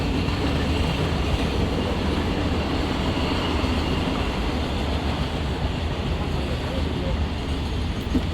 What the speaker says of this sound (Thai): เฮ้ยรถไฟรถไฟรถไฟ